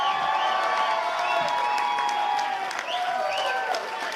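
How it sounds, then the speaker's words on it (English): A crowd at an election night speech applauds and cheers loudly and steadily throughout, with whoops and shouts rising over the dense clapping. "so you guys give him a round of applause."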